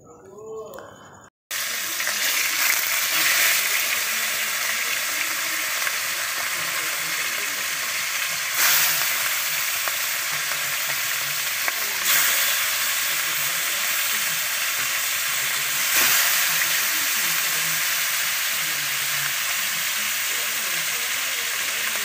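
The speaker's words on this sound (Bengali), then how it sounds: "মাছটা এখন ভেজে নেব। কড়াইতে গরম হয়ে গেছে তেল।" Fish fries in hot oil in a wok, a steady, loud broadband sizzle that holds for about twenty seconds after a brief quieter start, with occasional swells and crackles.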